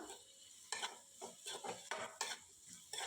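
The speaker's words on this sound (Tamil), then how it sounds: "அதையும் இதோடு சேர்த்து நல்லா வதக்கி விட்டுடலாம்." Onions and two medium-sized tomatoes stirred and sautéed in oil for a dried-fish (karuvadu) thokku, a steady sizzle broken by repeated scraping stirs of a spoon in the pan, close up, with no talking.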